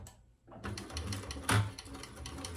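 A sewing machine top stitches a bag, starting after a moment of quiet into a close, rapid mechanical chatter with a sharp clunk partway through.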